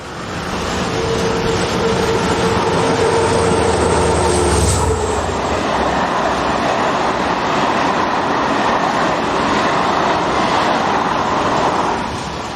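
An SNCF diesel locomotive, number 72052, hauls a passenger train, giving a steady, loud rumble of engine and rolling wheels that carries through the whole stretch with no one talking.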